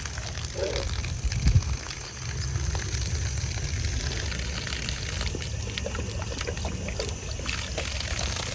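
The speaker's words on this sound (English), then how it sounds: "I'm gonna turn on the faucet for him because he loves this now." Water runs steadily from a household faucet, a continuous rushing splash that holds at an even level throughout, with a brief louder gurgle near the start. Close by, no talking.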